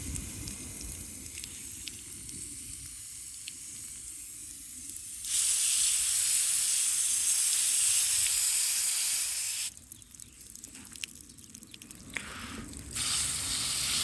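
Water poured from a hose or can onto the soil around a newly planted passion vine or pepper plant at a farm, a steady hiss that swells louder midway, then drops back, with no talking.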